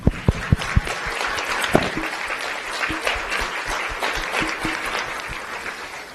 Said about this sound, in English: Can we get a loud round of applause for our students in the crowd who are the first to attend and graduate college